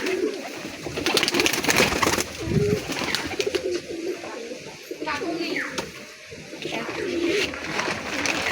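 Pigeons coo repeatedly in low, throaty rolls, close and fairly loud, with other birds and voices murmuring in the background.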